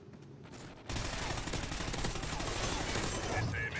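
Dense, rapid gunfire from the Call of Duty Ghosts video game erupts after a quieter second and then runs loud and unbroken to the end.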